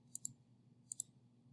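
Two quick pairs of soft plastic clicks come from keys pressed on a TI-84 calculator, faint and close against a low hum.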